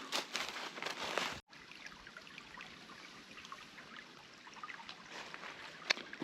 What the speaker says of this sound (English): Little Eagle Creek is the name of this creek.